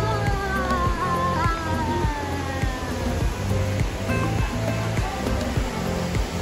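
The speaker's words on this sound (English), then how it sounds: "That's the Trevi Fountain." Trevi Fountain in Rome splashing steadily in the early morning, a continuous loud wash of falling water with faint crowd murmur underneath.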